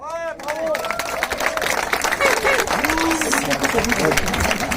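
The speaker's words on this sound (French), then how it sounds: "je vous demande de l'applaudir bien fort" Crowd applause at an outdoor street demonstration in Clermont-Ferrand, a dense steady clatter of many hands filling the whole stretch, with voices and shouts mixed in.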